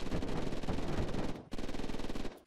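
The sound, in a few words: gunfire shooting a generator in Unturned video game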